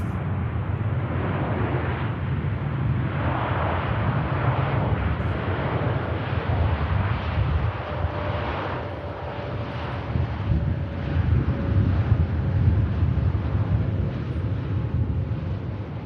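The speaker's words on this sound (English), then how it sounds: "Saudi are just greasing it. Touchdown." A Saudia airliner lands and touches down at Manchester Airport. A loud, continuous roar of jet engines rumbles throughout, mixed with heavy wind buffeting on the microphone and a faint tonal whine.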